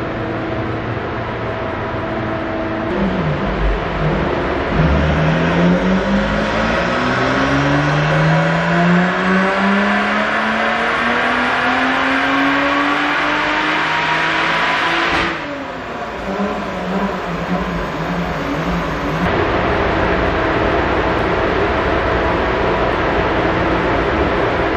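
A Lotus Exige V6 Cup car roars loudly on a dyno, its engine sweeping up through the revs in long sustained pulls with a brief lift partway through, loud and close throughout.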